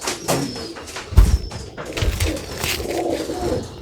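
Dubwale breed pigeons coo close by in a loft in Sharjah, UAE, with soft, repeated throaty calls that overlap over a few seconds.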